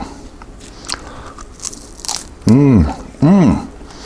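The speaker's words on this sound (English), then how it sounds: "Taking a bite. Look. See? Beef jerky made out of steak." Homemade steak beef jerky made in a Ninja Foodi is bitten twice, each bite a loud, close crunchy snap with a tearing rasp, after quieter handling noise and faint background sounds.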